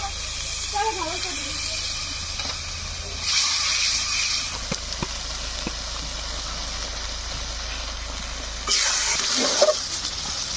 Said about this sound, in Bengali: হলুদ গুঁড়ো দিয়ে মশলাটা কষিয়ে জল দিয়ে দেবো মশলাটা কষানোর জন্য